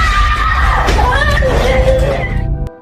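A child's loud, shrill scream inside a house rises and wavers for about two seconds over a noisy background, then breaks off suddenly.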